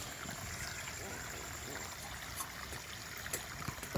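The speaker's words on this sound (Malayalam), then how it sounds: "ഇതാണ് നമ്മുടെ തോട്." Water flowing steadily in a small village stream: a continuous broadband rush and trickle, fairly close and even, with faint voices in the background.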